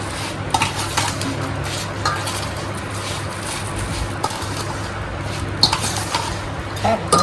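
A grandmother mixing gunda pickle with spices, close-up scraping and clinking of a spoon against a metal pot with soft squishy stirring, repeated irregularly over a low background hum, no voices.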